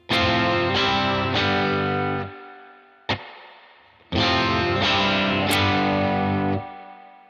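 Synthesizer chords through the modeled spring reverb of a Universal Audio Dream '65 pedal, splashy. Each note rings out and decays, and a sharp twangy crash echoes in the middle between the two held chords.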